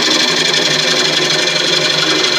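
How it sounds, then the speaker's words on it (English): A wood lathe spins steadily while parting off a turned wooden desk tidy, giving a continuous, loud, dense whirring and cutting hiss with no pauses and no talking. "Part off where you feel comfortable, but not too fast."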